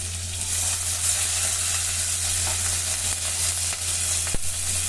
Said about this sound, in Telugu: కలర్ చేంజ్ అయ్యే వరకు కూడా వేయించుకోండి.